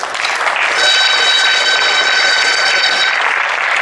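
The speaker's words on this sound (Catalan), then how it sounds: "Doncs aplaudim a Mafanys a l'heroi de fa dos anys." A crowd applauds at an outdoor street celebration in Catalonia: a continuous, dense wash of clapping that stays loud and even for a few seconds.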